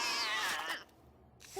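A cartoon cat lets out a loud, drawn-out meow that slides downward and fades, then a brief squeak at the end.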